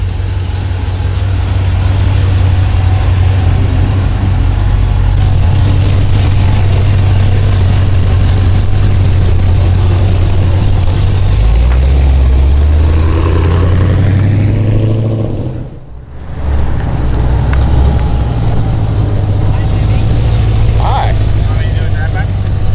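A Pontiac Trans Am engine runs loud and close through its muffler, a deep steady burble that rises with revs midway, dips briefly to near silence, then resumes, with voices speaking over it.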